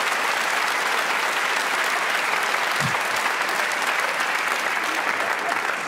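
A live comedy audience applauds loudly and continuously at a stand-up show, a thick, steady roar of clapping with a faint voice briefly surfacing midway.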